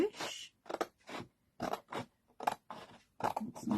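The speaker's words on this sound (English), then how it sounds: "So I'm now going to cut along the line" Scissors cut along a line through a sheet of card in a series of separate crisp snips, each a short crunchy slice followed by a brief pause, heard close and fairly quiet.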